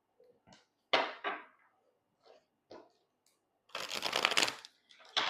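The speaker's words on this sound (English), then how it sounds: "I want you to see me shuffling" A deck of cards is shuffled in short bursts: a few quick riffles and taps, then a longer, louder ruffling run near the end, close and crisp in a quiet room.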